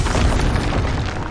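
Short, loud fiery blast from a Confringo spell in the Hogwarts Legacy video game, a thick rumbling boom that holds steady and then fades slightly, with no speech.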